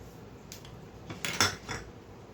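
Chili chicken marinade of spices, cornflour and egg being mixed in a bowl, with a few light clinks and scrapes of a utensil against the dish, soft and close, with no talk.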